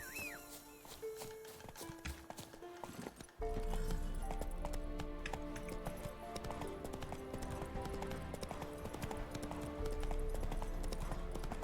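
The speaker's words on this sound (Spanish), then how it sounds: "Caballo." Horse hooves clip-clopping in a video game, a steady walking rhythm heard over constant game music and effects.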